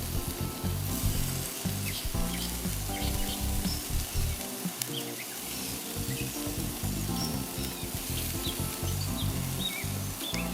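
Bacon-wrapped appetizers sizzle steadily over a charcoal grill, a continuous close crackling hiss with small pops throughout and no speech.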